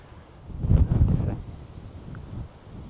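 Wind buffets a camera-mounted microphone out in a farm field, a low rumbling gust swelling for about a second then easing into a softer rush.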